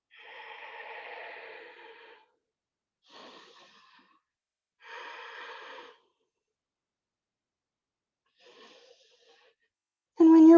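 Heavy breathing during a power yoga flow, a few separate audible breaths and exhales in bursts with quiet gaps between, close to the microphone, ending in a sudden louder sound.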